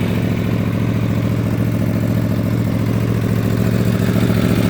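A 2019 Aprilia Tuono V4 Factory motorcycle engine running steadily nearby, a loud, even, throbbing idle with a constant pulsing rhythm and no change in revs.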